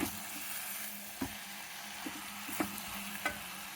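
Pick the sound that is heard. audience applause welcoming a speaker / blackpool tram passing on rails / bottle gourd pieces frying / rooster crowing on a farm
bottle gourd pieces frying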